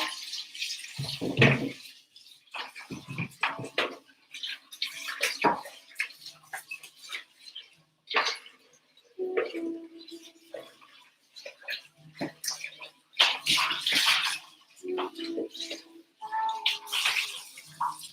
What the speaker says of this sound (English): Let me wash.